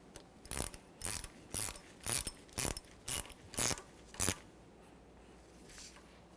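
A hand ratchet tightens the upper strut mounting nut on a 1994-1997 Honda Accord, giving eight evenly spaced, close clicking bursts followed by quiet.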